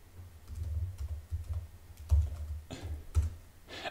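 Typing on a computer keyboard, a run of close, distinct key clicks in an irregular rhythm with a few heavier presses, quiet and alone without speech.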